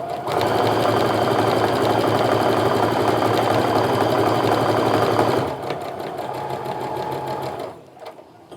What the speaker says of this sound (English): I'm going to go ahead and sew the other piece to the other side